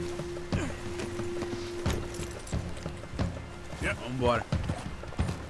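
Horse hooves clip-clopping on the ground in the Red Dead Redemption 2 video game, a steady run of hoofbeats mixed with game sounds while someone talks over them.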